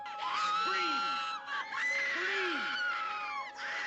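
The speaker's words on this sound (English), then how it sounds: "Screaming. Screaming helps." A woman's high, wavering screams from the horror film The Tingler, loud and sustained with rising and falling pitch over a backing of dramatic orchestral music, with a few short breaks between cries.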